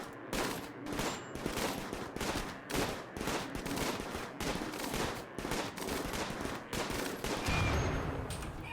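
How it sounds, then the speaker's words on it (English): Explosions and crackling gunfire fill a RimWorld battle, a dense, continuous barrage of sharp bursts and rumbling blasts with no talking over it. "that explosion went big"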